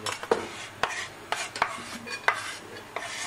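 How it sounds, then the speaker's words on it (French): Butter melts in a pretty saucepan while a utensil stirs it, giving repeated clinks and scrapes against the pan over a soft sizzle, close and without talk. "un petit peu de beurre qu'on va mettre à fondre"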